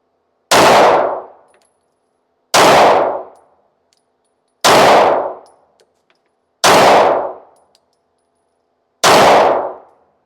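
Five sharp pistol shots fired with Federal 124 grain ammunition, each ending in a ringing clang off a steel target. The evenly spaced reports come about two seconds apart, loud and close, with no talking.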